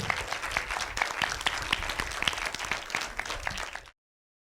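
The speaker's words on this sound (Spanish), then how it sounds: "Les damos un aplauso." An audience applauds steadily for about four seconds at the close of a panel discussion on 500 years since the conquest of Mexico, a dense wash of many hands clapping together before cutting off abruptly.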